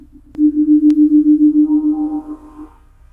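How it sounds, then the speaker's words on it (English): Steady low electronic tone played through headphones as a binaural beat, a sustained hum of about two seconds with faint higher partials entering partway, brief clicks at the start, no voices. "Her only external stimulus comes from tones in her headphones."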